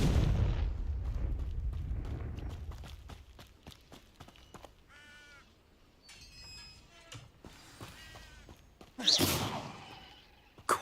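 Fire-spell explosions burst in a Hogwarts Legacy fight, a few sharp blasts among rapid clattering impacts, with a louder crackling blast near the end.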